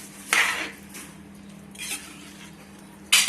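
A spoon stirs beef stew thickened with cornflour slurry in a pot. Three separate bursts of scraping and clinking rise over a quiet background hum, the last one sharp and metallic. There is no speech.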